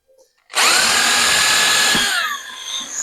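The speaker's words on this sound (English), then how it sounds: "first thing I'm going to do is put holes in these 3 bits of wood" Power drill boring a hole into a piece of wood, a loud close whine that starts abruptly, holds steady for about a second and a half, then winds down.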